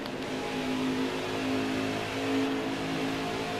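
A NASCAR stock car engine in a racing video game holds a steady, droning whine at high revs, continuous and unbroken throughout, with no talk over it.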